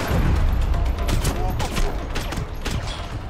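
Dense bursts of gunfire rattle and boom through a firefight in the shooter game Max Payne 3, loud and continuous with shots overlapping throughout.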